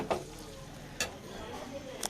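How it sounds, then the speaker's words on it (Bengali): Onions fry in a kadai, a low sizzle under a few sharp clinks and stirring scrapes from utensils against the pan. "এই যে পেঁয়াজ ভাজতে দিয়ে দিয়েছে এই দেখো"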